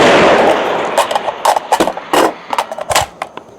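A PSA Sabre AR-10 rifle fires a single sharp shot at a 700-yard target, followed by a burst of loud, close cracks and clattering impulses with echoing tails.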